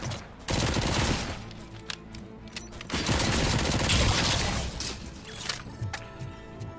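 Heavy machine guns in RoboCop: Rogue City blaze in dense, continuous bursts that fill the soundscape. The fire pauses briefly, then resumes just as loud, with clinking mechanical sounds near the end.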